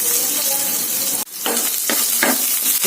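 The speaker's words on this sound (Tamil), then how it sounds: "சின்ன வெங்காயம் நறுக்கினது போட்டுடலாம்." Chopped shallots sizzle and crackle in a little hot oil with black urad dal in a pan for a banana flower dish, a loud continuous fry with brief stirring bursts and a short pause as they go in.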